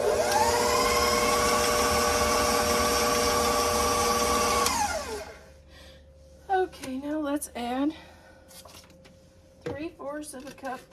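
An electric stand mixer runs loudly and steadily while mixing cookie dough, then winds down and stops about halfway through, followed by brief speech.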